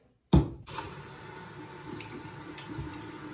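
Tap water bursting on to wet a facial spin brush at a bathroom sink, starting with an abrupt splash and then running steadily and quietly close by, with no voices.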